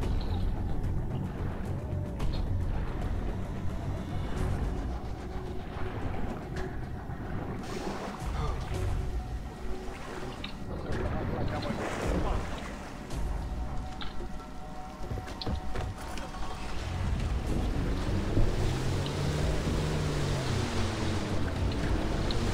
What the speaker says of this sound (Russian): Покиньте впадину на надувной лодке